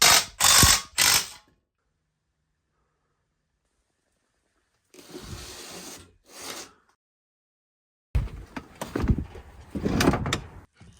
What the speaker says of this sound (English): Now I'll go ahead and pop the mounting brackets on